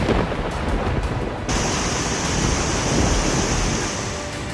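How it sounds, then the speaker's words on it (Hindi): Floodwater roars over a bridge during monsoon flooding, a loud, steady broadband rush of churning water that carries on without a break and swells slightly partway through. "पुल के ऊपर से गरजती हुई लहरें बह रही हैं।"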